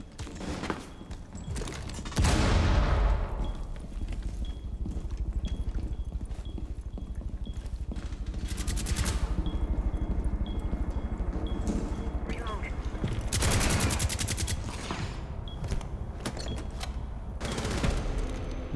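Gunfire in Rainbow Six Siege, bursts of rapid shots cracking out around the two-, nine- and fourteen-second marks over steady game ambience, with players talking throughout.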